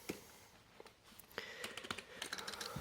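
Keys on an A4tech Bloody gaming keyboard are pressed in irregular clicks and clacks, sparse at first and then quicker runs of taps, close and fairly quiet.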